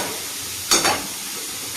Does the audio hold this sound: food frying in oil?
yes